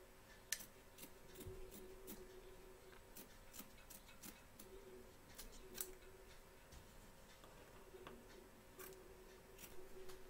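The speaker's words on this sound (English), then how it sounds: "trim up along here and here, ready for our joins, and cut close to the stitches without cutting any" Scissors trim fabric close to machine stitching on an in-the-hoop crazy patch quilt block, a run of quiet, crisp snips at an uneven pace over a low steady hum, with no talking.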